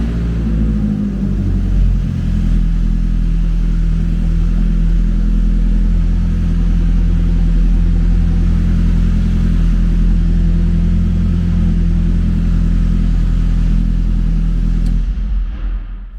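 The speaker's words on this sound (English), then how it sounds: "Now we can just start the car by pushing the brake in," A Ferrari F430 Challenge race car engine fires up and settles into a loud, steady idle with a deep rumbling drone, running continuously and close by before cutting off at the very end.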